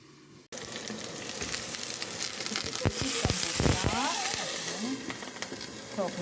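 Vegetables, with carrot among them, fry in a pan for a salad, giving a steady sizzle with stirring scrapes and clatter throughout, while a voice talks over the cooking.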